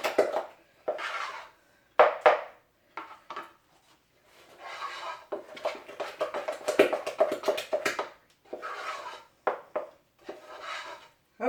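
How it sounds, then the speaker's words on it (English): Cream puff choux paste stirred in a pot in a small farmhouse kitchen, a spoon scraping and knocking against the pot in uneven bursts and pauses, close and fairly loud with no talking. "let me just keep stirring"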